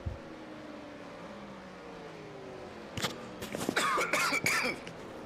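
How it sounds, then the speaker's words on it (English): A few sharp coughs and throat-clearing sounds break out after a stretch of steady low background noise, close and fairly loud. "As he coughs."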